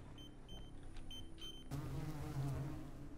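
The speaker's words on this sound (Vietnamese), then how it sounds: "Sao lại có tiếng ruồi vô đây nhở?" Flies buzz inside the MiSide video game, a faint drone under a few soft beeps at first, then growing louder and denser for the second half, with no voices.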